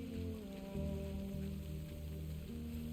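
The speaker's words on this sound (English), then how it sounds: "Even being in the rain is nice" Steady rain falls in the video game Death Stranding, a soft continuous patter at low volume layered over a sustained low musical drone, with no voices.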